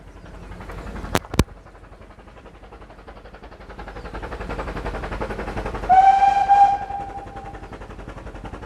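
Vale of Rheidol Railway steam train, with two sharp clanks early on, then a swelling rumble of the moving train and a loud, clear steam whistle blast lasting about a second near the end.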